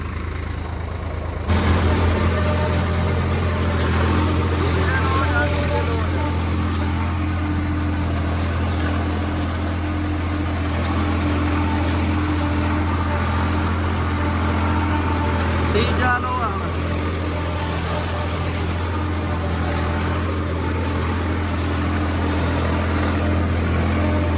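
A tractor with a Shaktiman implement attached runs in a farm setting, its engine a steady, loud, low rumble that starts abruptly and holds throughout while people talk over it.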